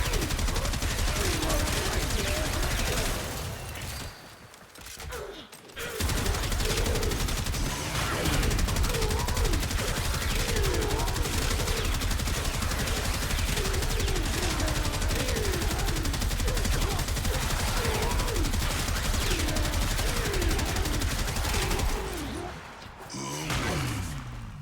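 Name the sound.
gunfire and explosions in the video game Warframe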